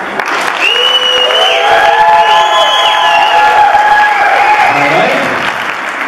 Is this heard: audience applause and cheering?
yes